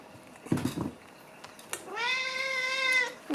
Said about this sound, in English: You just don't stop meowing.